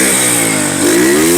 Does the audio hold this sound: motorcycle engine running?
yes